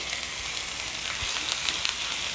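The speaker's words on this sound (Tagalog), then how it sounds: "ipa-fry ko muna itong ating hotdog or ating sausage" Hotdog sausages fry in a pan with a steady, dense sizzle and crackle of hot oil, fairly loud and continuous throughout with no voice over it.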